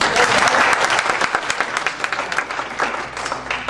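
A property management meeting audience gives a warm round of applause, loud close clapping from a modest crowd with individual hand claps audible, easing slightly toward the end.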